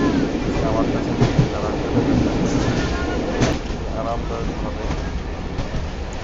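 A passenger train runs steadily on a rail journey, a continuous loud rumble of carriage noise with faint wheel clatter, while people talk nearby over it.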